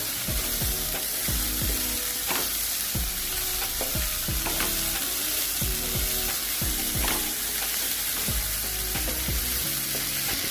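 Sprouted green gram usli fries in a pan as coriander is stirred in, giving steady sizzling under repeated scraping strokes of a spoon against the pan, close and continuous.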